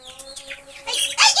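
Layer hens kept in a small house cluck and chirp close by, short scattered calls that grow louder and denser toward the end.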